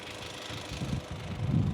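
Direct-injection diesel engine of a Mercedes A-Class W117 idling steadily with a low, uneven rumble and faint knocking pulses, fairly quiet and close, with no talking.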